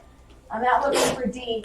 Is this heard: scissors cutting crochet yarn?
no